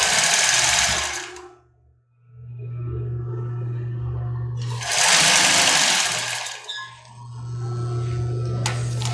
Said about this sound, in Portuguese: e costurar na beirada do elástico